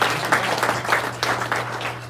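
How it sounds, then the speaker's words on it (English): About 85 Rotarians and guests at a club meeting applaud together, a dense, steady wash of clapping heard from within the room with no break. "so give yourselves a round of applause."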